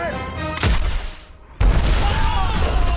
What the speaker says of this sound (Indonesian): Kapten pun akhirnya memerintahkan serangan arteri ke arah mereka.